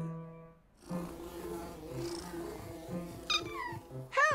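A cartoon cat purrs in short rumbling bursts close by, broken by a couple of rising meows toward the end.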